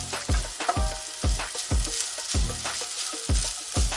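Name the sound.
ginger sautéing in coconut oil until brown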